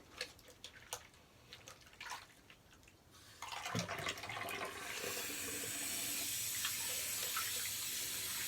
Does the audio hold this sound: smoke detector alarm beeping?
no